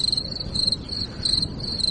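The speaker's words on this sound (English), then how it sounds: "So newsmaker lines and crickets." Steady chirping of crickets played as a sound effect on a talk radio show, a continuous pulsing insect trill in short repeated bursts, fairly loud with no voices over it.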